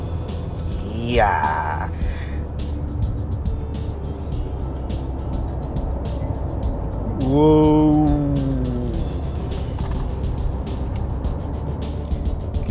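A 2022 Lexus NX switched into sport mode drives along a road, its engine a steady drone inside the cabin that swells in a rising rev around midway, with people briefly talking over it.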